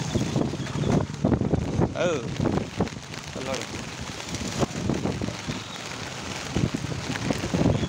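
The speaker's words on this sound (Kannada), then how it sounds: "ರಸ್ತೆ ಮೇಲೆ ಈ ನೀರು ಹರಿತಾನೇ ಇದೆ, ಮಳೆ ನಿಲ್ತಾನೇ ಇಲ್ಲ." Heavy rain and strong wind lash a street in Hyderabad, Telangana, with water running on the road. A steady, dense roar of rainfall and gusting wind buffets the microphone while someone talks over it.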